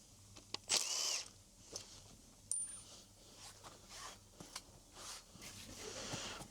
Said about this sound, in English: Here I am with my power tools again